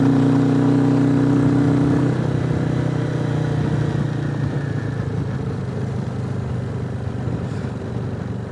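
A Royal Enfield Classic 350 motorcycle fitted with a taller 16-tooth sprocket rides along, its engine droning steadily and loud throughout with a sustained low hum and a brief higher tone at the start, no talking.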